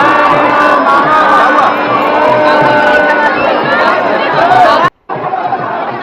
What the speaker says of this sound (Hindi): तो भीड़ आप देख सकते हैं कि कितनी ज़्यादा भीड़ भोर में हो गई है